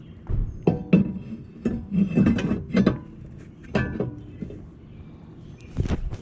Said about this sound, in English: we're just gonna slide it on